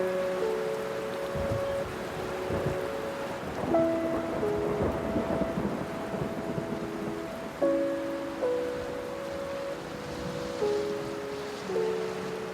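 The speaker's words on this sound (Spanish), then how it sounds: "Era una noche tormentosa de septiembre. La lluvia golpeaba en la ventana" A rain-soaked September night storm with steady rainfall tapping against a window and rumbles of thunder beneath, carrying on continuously under a soft melodic music bed that runs throughout.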